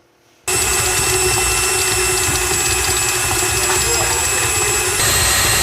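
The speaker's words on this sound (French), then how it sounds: "nous avons mis dans notre robot avec le crochet feuille le sucre, le beurre, la râpure et la gousse de vanille que nous allons pétrir, battre à vitesse assez rapide" A stand mixer with a flat beater churns sugar, butter, citrus zest and vanilla at fairly high speed, a loud, steady motor whir that starts suddenly and runs on close by without a break.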